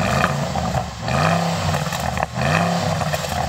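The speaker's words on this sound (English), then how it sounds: "Go on, Jan, you rev up your car." A Porsche Cayenne Turbo engine is revved twice in quick succession. Each blip is a loud rising roar that falls away between pulls, with no talking.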